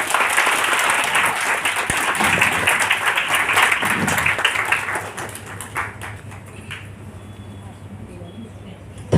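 An audience applauds at a school inter-school Hindi debate prize-giving, with loud, dense clapping for about five seconds that then thins out and fades, and a voice speaking over it.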